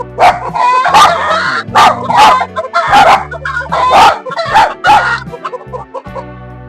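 Dogs bark repeatedly in short bursts, close and loud, with a rooster and clucking chickens mixed in between the barks.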